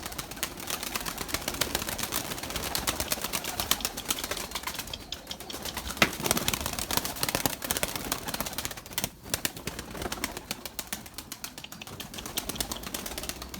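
Young white Erzurum pigeons take flight, giving a dense, continuous flutter of wing claps and rustling throughout, fairly close and steady with brief dips, with no talk.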